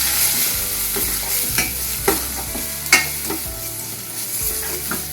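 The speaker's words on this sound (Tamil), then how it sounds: "சேர்த்து இது நல்லா கலந்துலாம் எண்ணெயில்." Dried chilies, crushed pepper, cumin and garlic are stirred in hot oil for a raw mango rasam, a steady close sizzle with a few scraping stirs of a spoon against the pan, and no talking.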